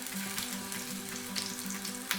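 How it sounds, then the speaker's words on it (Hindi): A little ginger sizzles in an oiled pan while it is lightly stirred, with a continuous close frying hiss and soft scraping strokes, and no talk. "पैन को अच्छी तरह ऑयल डाल दें। फिर इसमें थोड़ा सा अदरक डाल दें, हल्का सा इसको चलें।"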